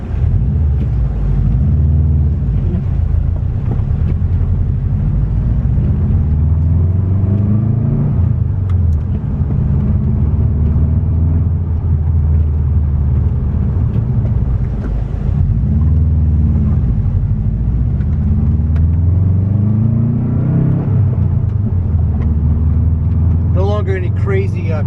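A Subaru WRX Bugeye project car on a test drive gives a steady, close engine and road rumble heard from inside the cabin the whole time, with people talking over it.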